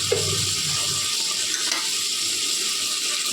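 Garlic, green chilli and chopped onion sizzle in a pan as a steady, close, hissing fry that runs without a break and has no voices over it.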